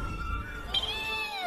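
A cartoon cat, a rescued Mixie Cat from the Mixels animated series, meows twice in quick succession, the second call rising higher, loud and close over a soft bed of background music.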